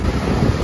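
Sea waves wash onto Shankarpur beach in a brief, continuous surge, mixed with gusty wind buffeting close by.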